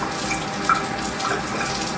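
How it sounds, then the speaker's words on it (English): A kitchen sink tap runs water into a cup, a steady close hiss and splash that continues unbroken for a couple of seconds with no voices. "I fill up the 1 cup with the water."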